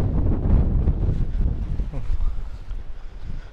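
Gusty wind buffets the microphone in Crimea with a heavy low rumble that stays loud and steady throughout.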